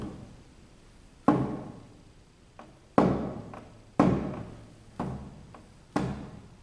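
A piano played loudly gives about six heavy, resonant thumps at irregular intervals, each with a sharp attack that decays through the wooden case, close and without speech.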